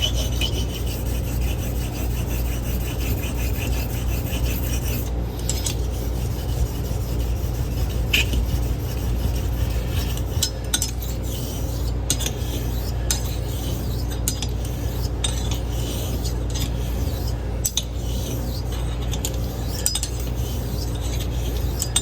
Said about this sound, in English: I am using 2 hands on this hone, and I am pretty good pressure here.